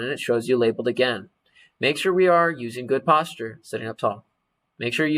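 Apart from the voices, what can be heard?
No distinct noise like a dog, phone or traffic.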